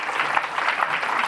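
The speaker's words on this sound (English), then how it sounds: "If you could all join me in a round of applause for our amazing panelists." Brief burst of audience applause for panelists at a discussion on affordable housing in NYC, dense steady clapping filling the whole moment.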